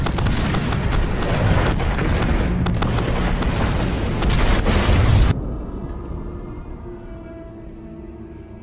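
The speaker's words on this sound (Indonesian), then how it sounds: "serangan kedua datang dengan jumlah bom yang cukup banyak" Heavy bomb blasts in a wartime battle on the Soviet front near Moscow, with loud continuous booming and rumbling explosions that stop suddenly after about five seconds, leaving a quieter low rumble.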